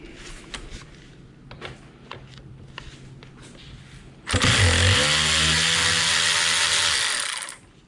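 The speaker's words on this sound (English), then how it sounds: "First we'll need a 10 millimeter right here to take this bolt off." A 10 mm bolt comes off a Mazda G5MR manual transmission during teardown: scattered light clicks and taps give way to a loud, sustained whirring power-tool drive that runs for several seconds before cutting off.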